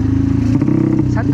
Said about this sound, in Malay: Wah, motor Honda woi.